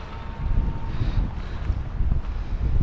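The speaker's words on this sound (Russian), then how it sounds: "На улице, конечно, ветрено" Strong outdoor wind buffets the microphone with a steady low roar that rises and falls in gusts, close and loud with no talking.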